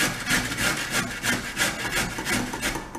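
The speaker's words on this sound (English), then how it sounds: "You can either grate it from the bigger holes or the smaller holes." A carrot is rubbed rapidly against a box grater in quick, even back-and-forth rasping strokes, close and continuous with no talking.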